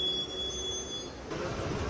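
An Intercity Express train running from Trichy to Trivandrum pulls out of the small two-platform Kuzhithurai station in Kerala, giving a continuous rolling rumble with a faint high squeal from the wheels, close and without voices.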